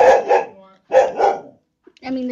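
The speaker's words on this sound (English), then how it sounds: "there's a loud dog over here" A loud dog barks close by in a house, two quick pairs of sharp barks with a short pause between them, followed by a brief voice at the end.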